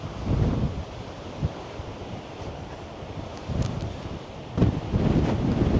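Ocean waves breaking on the Cornish coast near Godrevy Lighthouse, a steady broadband wash of surf with heavier low rumbles at intervals, mixed with gusty wind buffeting the microphone; no voices.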